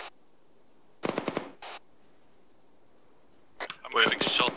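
Gunfire in the military shooter ArmA 3: a rapid cluster of sharp shots, then a second quick burst, and after a pause a louder, denser volley near the end, with voices talking around the shots.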